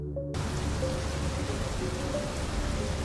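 Light drizzling rain hisses as a steady, dense patter of fine drops that starts abruptly and continues evenly throughout at moderate loudness, with no voices.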